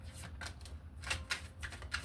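A deck of spirit animal oracle cards being shuffled by hand, a quick close run of soft riffling flutters and taps in a brief burst.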